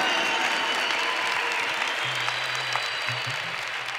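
A church congregation claps together during a sermon, loud, even applause filling the room throughout, with a low tonal hum briefly entering underneath.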